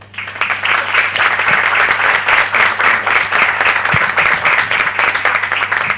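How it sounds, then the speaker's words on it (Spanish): An audience applauds as a speaker is welcomed at a university conference on smart cities, loud sustained clapping throughout with a low hum underneath and no voices. "y los quiero dejar entonces con Lucas Lanza, para quien pido un fuerte aplauso."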